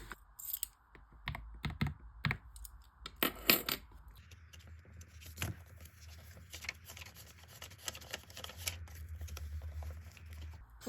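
Coins are handled and counted while a weekly cash budget is tallied, with scattered close metallic clinks, taps and rustling over a low background hum.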